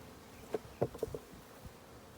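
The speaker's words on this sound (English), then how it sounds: "Shake the bees back down into the hive." Honey bees at a hive during an inspection, heard as a faint steady buzz with a few brief louder swells as individual insects pass close, no talking.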